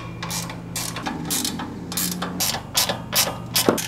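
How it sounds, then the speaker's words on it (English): Wrenches and sockets tighten the fasteners on a steel industrial welding workbench, producing repeated bursts of close ratchet clicking with brief pauses between strokes. "Now I'm just gonna get some wrenches and sockets and go through and tighten all the fasteners."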